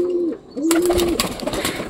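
Pet pigeons coo close by in a couple of low, drawn-out calls, followed by a rustling flurry that could be wing flaps as the birds are released to fly.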